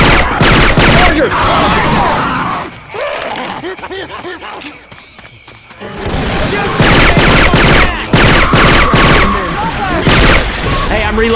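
Syphon Filter weapon sounds swapped into the Left 4 Dead 2 zombie shooter: loud, close bursts of rapid gunfire with booming shots, a short lull midway, then heavy firing again, with game voices calling out over the shooting.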